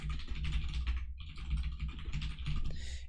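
Continuous typing on a computer keyboard, rapid clicking keystrokes with a brief pause near the middle, close and steady, no voices.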